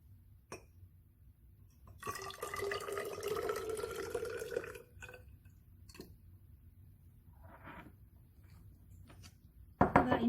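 Hydrochloric acid being poured and measured into a container, a steady trickling pour lasting a few seconds, with faint drips and small clicks of glassware in an otherwise quiet room.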